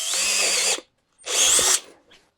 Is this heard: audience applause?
no